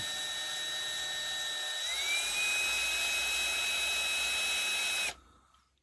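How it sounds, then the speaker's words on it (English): Wire wheel cleaning the fuel sieve of a Villiers antique lawn mower: a steady high whine that rises slightly in pitch partway through, close and continuous for about five seconds, then cutting off abruptly. "So just give it a wee clean with my wire wheel, just nice and slowly."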